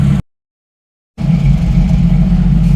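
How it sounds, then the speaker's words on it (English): A 1990 Jeep YJ's 4.2L engine with carburetor trouble idles steadily just below 1,000 rpm, a loud, close, even low rumble that returns after a second of silence and holds without revving. "She's idling, and the temperature's up to normal."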